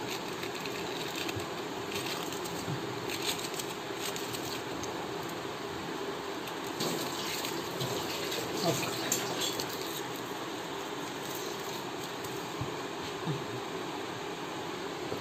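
Tap water runs steadily over a kulfi mould held under a kitchen faucet, a continuous close splashing hiss with no breaks and no talking.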